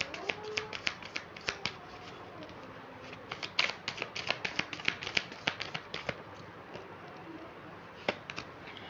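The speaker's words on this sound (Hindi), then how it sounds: "अच्छे से कार्ड्स को मिक्स करेंगे" Tarot cards shuffled by hand in a steady run of crisp riffling snaps and flutters, fairly close and clear, with a few louder bursts near the middle and a pause before a last flurry; no talking.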